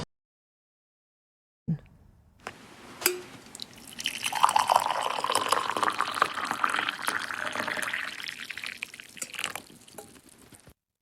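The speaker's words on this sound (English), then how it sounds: "John from Ireland sent in that recording to share the sound of tea being poured from his old red Polish teapot" Tea pours from an old red Polish teapot into a cup, starting with a few drips and clinks, then a steady trickling stream that gurgles and rises in pitch as the cup fills, before tapering off.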